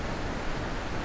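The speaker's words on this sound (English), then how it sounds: "Waterfall." A waterfall in the video game The Witness gives a steady, dense rush of falling water, loud and unbroken for a brief moment.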